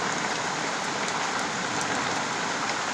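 Heavy rain pours down outside a survivor shack, a loud, unbroken hiss of drops striking surfaces nearby with no letup and no voices.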